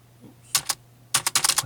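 Clicky keystrokes on a cheap computer keyboard attached to a Dell Optiplex 780 desktop: two quick taps, a pause, then a rapid burst of several presses, close and crisp in a quiet room.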